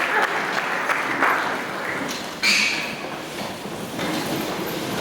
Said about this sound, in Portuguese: Uma salva de palmas em nome de Jesus